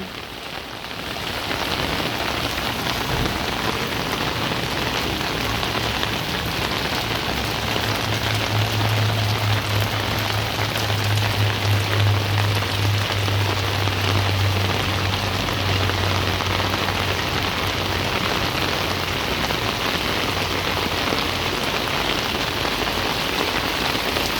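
Heavy typhoon rain pours steadily and loudly on a surface, a dense continuous hiss with a faint low hum underneath.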